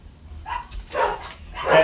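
Dogs bark in a few short bursts at a distance, fairly faint against a quiet room.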